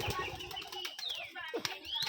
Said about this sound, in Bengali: পায়ে ফেদারওয়ালা কবুতর কালোজাক।